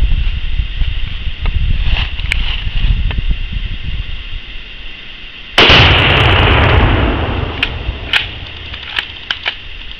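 A Shockwave exploding target detonates when shot outdoors near woods: one sudden, very loud blast followed by a long rolling rumble that slowly fades, with scattered small pops and patter of debris landing.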